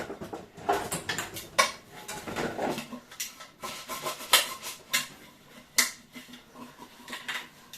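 Dishes and cutlery clink and rattle in irregular bursts while being washed, with rubbing and splashing between them, close by and fairly quiet.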